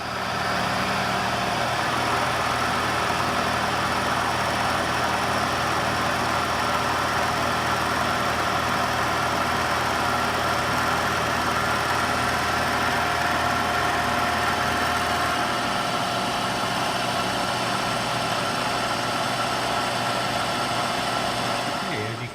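A milling machine cuts a taper along a replacement drill press handle, giving a steady, loud mechanical whir with a constant motor drone throughout, its pitch and low rumble shifting slightly partway through.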